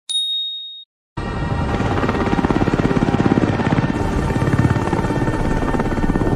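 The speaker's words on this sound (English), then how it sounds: "who the hell called the helicopter?" A brief ringing tone, a pause, then a loud helicopter with fast, steady rotor chopping that continues close and unbroken.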